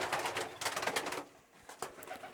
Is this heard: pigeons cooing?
yes